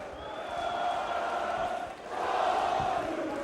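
A fight crowd at a kickboxing bout between Yavuz Ozden and Cheick Sedibe roars and chants like a soccer crowd, a steady loud wash of massed voices with a brief dip before swelling again.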